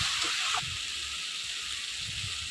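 Masala sizzles in hot oil as it is fried down for a fish curry with ridge gourd, a steady hiss with faint low rumbles of stirring, fairly close and continuous throughout.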